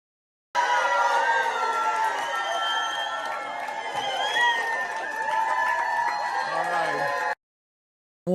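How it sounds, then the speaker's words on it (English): An excited crowd cheers and whoops at an improv comedy show, with loud, sustained shouting and high voices running steadily for several seconds before cutting off abruptly. "excited crowd"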